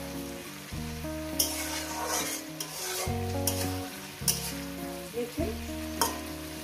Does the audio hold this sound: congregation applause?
no